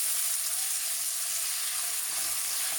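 Duck pieces sautéing in oil in a pan for a Kerala duck roast give a steady, close sizzling hiss with no pauses and no one speaking.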